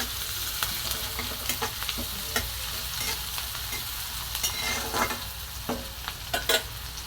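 Onion stirred and fried in a pan gives a close, steady sizzle, with frequent scraping and tapping of a spoon throughout.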